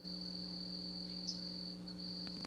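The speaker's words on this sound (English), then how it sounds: "Breathing with the crickets." Crickets chirping at night in a steady, continuous high trill, faint and unbroken, with a low hum underneath and no voices.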